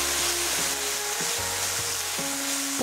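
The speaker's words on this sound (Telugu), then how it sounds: "పుదీనా నూనెలో ఎక్కువ సేపు వేయించాలి" Mint leaves fry in hot oil in a pan for a mint and coriander chutney, giving a steady broadband sizzle with occasional low stirring knocks throughout.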